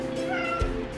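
A person imitates a cat's meow with a drawn-out, whiny tone, close and moderately loud, ending with a brief soft bump.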